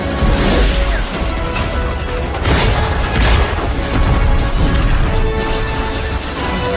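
Loud, continuous crashing and booming as a door is battered during a fight in an animated action film, dense impacts with no pauses and no voices.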